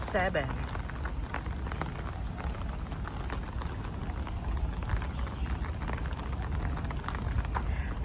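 Rain falling steadily in a park in Hong Kong, a dense continuous patter of drops on surfaces, soft and even, with a voice briefly heard at the start.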